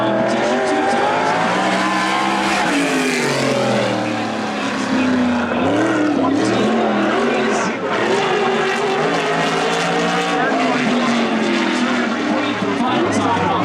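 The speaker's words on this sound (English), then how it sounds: "Sprint car competition 2 times." Sprint race cars roar around a dirt track at the Daffodil Cup NSRA/NST sprints, a loud continuous engine howl with rising and falling pitch as the cars pass, under a track announcer's voice.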